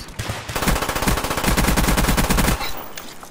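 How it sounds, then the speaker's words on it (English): Rapid bursts of automatic gunfire in the video game Call of Duty: Black Ops crackle in a dense, rhythmic stream for a couple of seconds, then cut off, with no one speaking. "I can hear gunshots."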